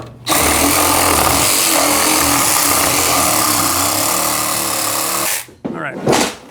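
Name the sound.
reciprocating saw (Sawzall) cutting a wooden plate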